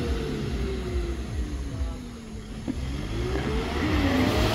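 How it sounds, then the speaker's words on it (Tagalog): A laboring truck engine on a damaged, unfinished road, a steady low drone with a slowly shifting pitch that holds throughout, close and continuous with no talk. "Hirap na yung truck"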